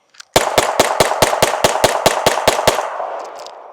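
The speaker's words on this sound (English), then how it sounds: "mag dump with no problem" A Glock 45 pistol empties its magazine in rapid fire: about twelve loud, evenly spaced shots in quick succession, close by, with a short echoing tail at the end.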